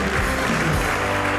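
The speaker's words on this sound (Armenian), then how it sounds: "Եկեք ծափարենք Մարտինին" An audience claps for Martin in a brief, even burst of applause that lasts under two seconds, close and fairly loud.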